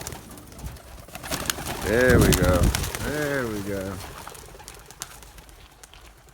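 Racing pigeons from a young bird team coo loudly and close during a release, with a voice speaking briefly under the calls and quiet outdoor ambience around them.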